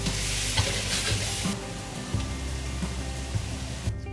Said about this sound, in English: Get a nice clean pan, add a little bit more oil, and then we'll add our shrimp.